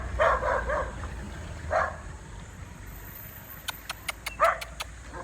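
A pet dog named Gong barks outdoors near a road, several sharp barks in short bursts separated by pauses, moderately close, with faint traffic noise behind and a brief run of clicking sounds near the end.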